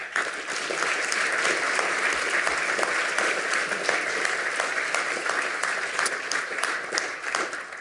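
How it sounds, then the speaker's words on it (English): Sustained audience applause at a hacker conference lightning talk (27C3), dense and fairly loud, filling the whole stretch with steady clapping from a large crowd. "give him a huge round of applause"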